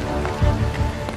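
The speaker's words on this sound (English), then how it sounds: "Experts analysing the black box tape believe it's the sound of ice crystals hitting the aircraft" Ice crystals strike an Air France Airbus A330 airliner in flight, a dense patter of small hits like heavy rain on the fuselage, heard steadily over the low cockpit hum for about a second.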